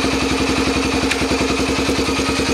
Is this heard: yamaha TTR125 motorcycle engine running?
yes